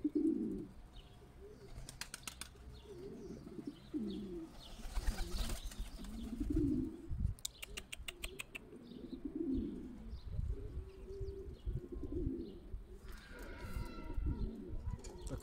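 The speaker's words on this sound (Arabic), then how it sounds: "الحمام الزاجل اخوتي ها انتوما الحمام الزاجل" Homing pigeons cooing in a loft, soft repeated low throaty coos from several birds, with occasional chirps and a brief burst of wing flapping, close but fairly quiet.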